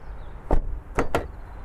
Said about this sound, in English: this door latch, listen to the door close.